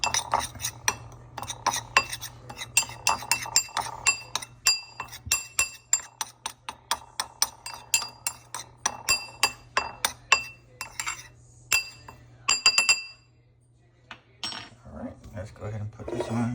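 Utensil clinking steadily against a glass bowl while green chile corn casserole ingredients are mixed together, a fast run of sharp taps and scrapes that stops near the end, with a low steady hum underneath.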